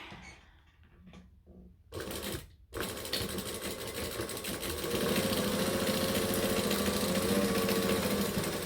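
A sewing machine stitching a fabric clutch runs in a continuous mechanical whir, starting with a few short bursts before settling into a steady, fairly close drone.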